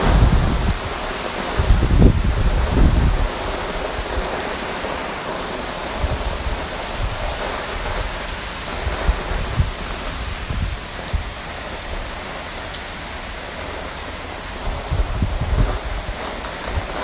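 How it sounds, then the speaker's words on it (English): Heavy rain pours down outdoors in a dense, continuous hiss, with occasional louder low rumbles and thuds rising through the downpour. "I thought it was just gonna rain a little bit."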